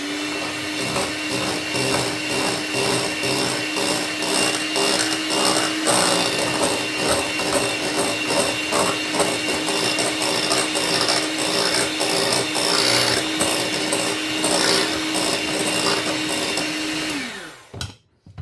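Electric mixer or blender mixing coconut and date cake batter made with kithul palm treacle, a steady close whir with a rhythmic rattle, running continuously before winding down at the end.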